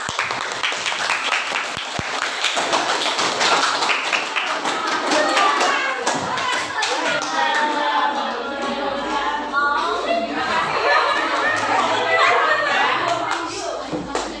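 Classroom applause for a student group during an Indonesian teacher-training online lesson, sustained clapping with a few voices and children talking underneath, fairly loud throughout.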